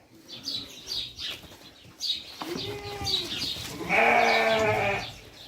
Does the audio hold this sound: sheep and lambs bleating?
yes